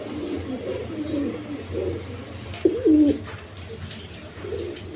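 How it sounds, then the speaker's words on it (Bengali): Pigeons cooing in a loft of colored pigeons, with a male calling repeatedly in low rolling coos, close and fairly loud, a louder burst near the middle and faint talk around. "এই নটটা প্রচুর ডাকাটাকে"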